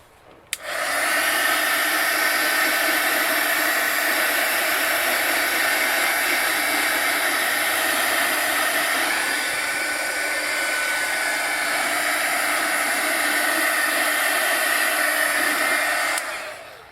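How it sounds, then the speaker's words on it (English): A heat gun blowing on a wire mesh butterfly for heat embossing, a loud steady hairdryer-like whoosh that switches on abruptly, runs continuously with a slight dip midway, then cuts off. "we're going to go ahead and heat emboss this one as well"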